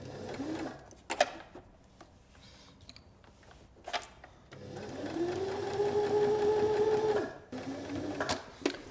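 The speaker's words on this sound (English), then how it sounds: "I'm going to stitch all the way around this paw pad" Sewing machine stitching around a double-thickness toy paw pad, a few short bursts followed by a steady whirring run of a couple of seconds, close and moderately loud, with no talking.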